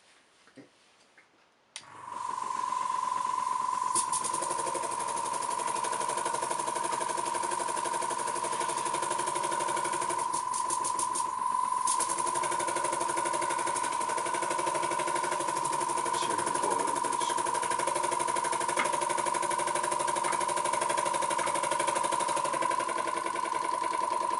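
A small model steam engine running on compressed air starts with a rush of air and then hisses and whirs steadily for over twenty seconds, with faint ticking, close by and without talk.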